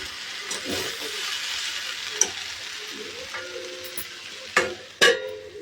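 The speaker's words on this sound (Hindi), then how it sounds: "मैं आलू की भुंजिया बना रही हूँ" Potatoes sizzle steadily in a hot pan as Indian potato bhujia fries, with occasional sharp clanks and scrapes as a utensil stirs them.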